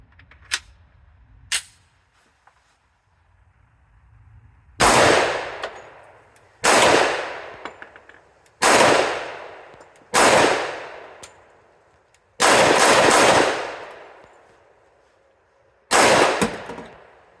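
Six loud, close shots from a Smith & Wesson M&P 10mm pistol firing Underwood 200 grain hard cast extra power loads, spaced a second or two apart with a short ringing decay after each, preceded by a couple of faint metallic clicks.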